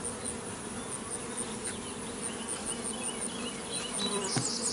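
Honey bees buzz around a small hive in a steady, faint hum, with a few individual bees droning closer as they pass.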